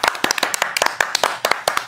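A group of people clap at a Facebook office live session promoting the film Kulche Chole, a lively burst of sharp, uneven hand claps repeating quickly and close for a couple of seconds.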